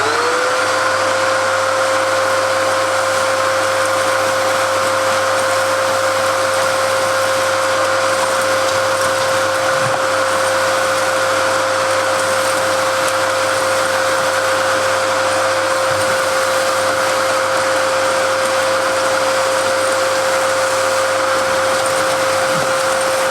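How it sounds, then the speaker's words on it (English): A compact domestic gutter vacuum runs with a loud, steady whining drone and a constant motor tone while sucking up large Scotch pine needles, with faint rattles of debris passing through and no voices. "So I think what every person that's used a gutter vac hates is when you get pine needles in it."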